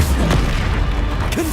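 Incendio fire spell cast in Hogwarts Legacy, a dense whooshing burst with booming low rumble that fills the moment, loud and close, no talking.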